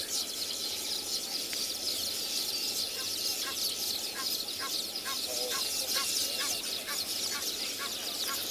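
An Egyptian goose on a sunrise safari in the Kalahari gives a run of repeated honking calls, moderately distant, over steady bush ambience with insects and faint background sounds.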